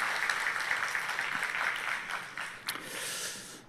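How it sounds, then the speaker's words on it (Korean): Church congregation clapping for an elders' vocal ensemble at a Korean church service in Kuala Lumpur, a steady crowd patter of moderate loudness that swells briefly near the end. "굉장히 은혜가 되었으면 뜨겁게 박수 한번 쳐주시기 바랍니다."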